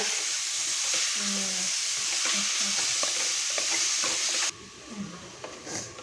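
Mutton stirred and fried in a pan, a steady loud sizzle with repeated scraping stirs, the hiss dropping away near the end as frying quiets.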